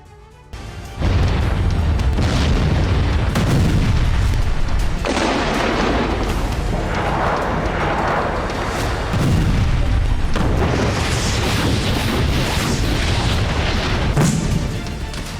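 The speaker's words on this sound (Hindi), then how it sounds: "वॉर ग्राउंड में होते ये धमाके" Heavy explosions from the Russia–Ukraine war battlefield boom out after a brief quieter start, with deep rolling blasts and crackling bursts merging into a sustained loud roar without speech.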